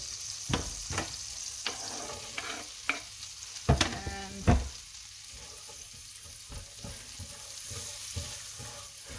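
Butter sizzles steadily in an electric fry pan, with a soft frying hiss throughout, broken by several sharp scrapes and clinks of a utensil spreading it around the pan.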